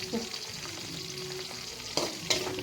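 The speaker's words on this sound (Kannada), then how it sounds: "ಈರುಳ್ಳಿ ಒಂಚೂರು ಬೇಯಲಿ ನೋಡಿ" Onions frying in a pan give a steady, even sizzle throughout, with a couple of brief scraping stir strokes near the end.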